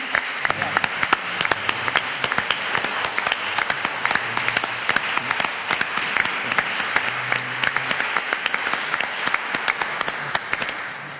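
Sustained applause fills a political gathering in Ontario's legislature setting, dense steady clapping from a sizeable audience lasting throughout with no voices over it.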